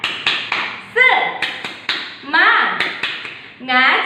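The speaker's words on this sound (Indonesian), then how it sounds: "Kita tepuk semangat dulu ya" Children in a second-grade Quran memorization class perform the 'tepuk semangat' rhythmic clapping, sharp claps in a steady pattern mixed with short chanted voices, close and lively.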